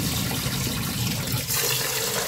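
Tap water runs steadily while food is washed in a home kitchen, a close, continuous gush that shifts slightly in tone partway through, with no talking.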